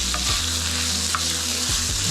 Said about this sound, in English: So now I'm going to add some sausage to it and brown that up.